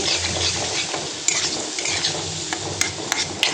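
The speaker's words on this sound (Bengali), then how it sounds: "মশলাটা দিয়ে এখন নেড়ে নিচ্ছি" Paneer butter masala spices being stirred in a hot pan: a continuous close sizzle with scraping strokes and a few sharp clinks of a spoon against the metal.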